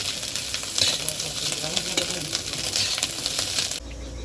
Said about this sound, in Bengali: এই তেলের মধ্যে মাছের ডিমগুলো ভেজে নেব।